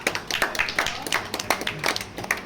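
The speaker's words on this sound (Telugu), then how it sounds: "చప్పట్లు పడాలి ఒక్కసారి గట్టిగా" Audience clapping at a rural prize-giving ceremony for a bullock cart pulling competition in Kadapa district: a short burst of scattered, uneven claps from a modest crowd, fairly close, without speech.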